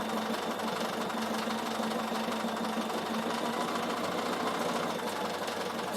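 Sewing machine stitching wool felt, a steady mechanical whirr with a fast rapid needle chatter running evenly throughout, moderately close, with no talking.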